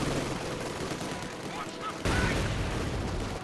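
Machine gun fire in Company of Heroes 2 during a Wehrmacht versus Soviets battle at Lazur Factory, sustained rattling bursts with dense gunfire throughout, swelling louder partway through, over a busy war soundscape.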